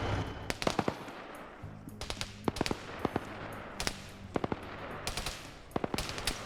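Air defense guns in a multiplayer PvP video game fire in rapid, sharp bursts of loud shots, repeated in clusters with short pauses, with a low rumbling backdrop between volleys.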